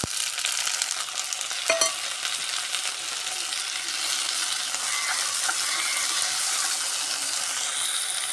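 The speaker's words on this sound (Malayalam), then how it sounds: "ഇനി നമുക്ക് തക്കാളി ചേർത്ത് കൊടുക്കാം" Tomato frying and being stirred in a pan for a sour Kerala-style mackerel curry, a steady loud sizzle with a brief clink of a utensil near the start and no speech.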